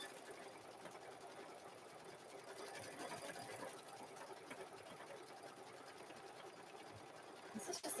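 Sewing machine quilting a cow-themed quilt, a steady, faint continuous whir running throughout.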